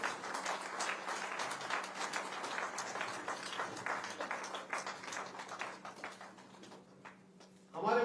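An audience at a political training meeting in Jaipur claps steadily, a fairly close, even patter of many hands that thins into scattered claps toward the end.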